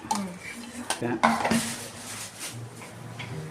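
Onion, tomato, ginger and garlic sauté in butter for paneer butter masala, with a spoon clattering and scraping against the pan in quick bursts over a soft sizzle.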